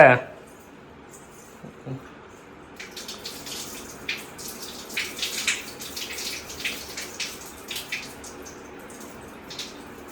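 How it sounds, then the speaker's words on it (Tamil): Water sloshes and splashes in short bursts as rice for ven pongal is swirled and rinsed by hand, with a brief clatter at the start. "அப்படியே அரிசிக்கு வலிக்காம தொட்டும் தொடாம பாப்பா கழுவுது"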